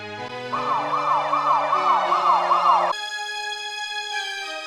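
An ambulance siren wails with a fast warbling tone, loud and close, then shifts to a steadier pitch as it continues, with no talk over it.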